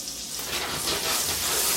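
Butter sizzles in a pan with olive oil, ready for chicken cutlets, giving a steady, close hiss of frying that swells slightly louder toward the end.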